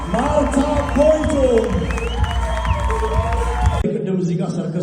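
Crowd at an Ethiopian film premiere red carpet applauds and cheers loudly and steadily, with shouting voices mixed in, then drops abruptly into quieter murmuring near the end.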